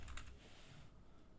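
A short burst of keyboard typing, a few quick keystrokes at the start, then faint room noise.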